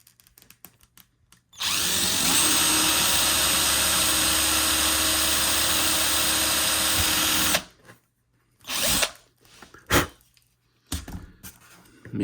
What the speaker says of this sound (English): And then we're going to have to drill a matching hole, as I say, 2 sleepers down,